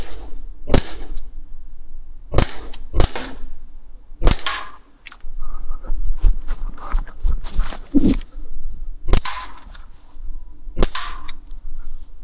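An Umarex Glock 17 air pistol fires at plastic bottles outdoors: about nine sharp, snappy shots at irregular intervals over a low background rumble, each crack close and loud.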